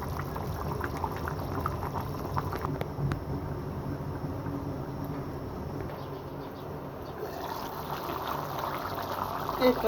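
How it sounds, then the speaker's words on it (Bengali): Bottle gourd and shrimp curry broth boils steadily in a pot, a dense continuous bubbling that holds level throughout and swells slightly louder near the end. "এই তো ঝোলটা ফুটে আসছে।"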